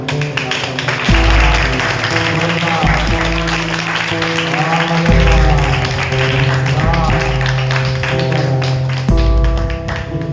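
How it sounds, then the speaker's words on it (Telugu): A church congregation claps during a Sunday sermon, several bursts of loud, close applause with rhythmic hand taps, mixed with accompanying music and a preacher's voice. "కొంత చప్పట్లు"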